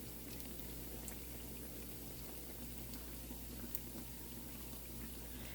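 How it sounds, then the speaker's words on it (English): Bread dough fries in hot oil, giving a quiet, steady bubbling hiss that continues evenly throughout with no speech. "This is how you fry them."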